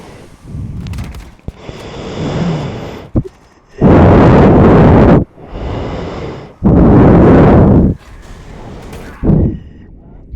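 A video game missile launches and explodes in two loud, roaring blasts, each lasting over a second, separated by quieter rumbling stretches with softer bursts before and after.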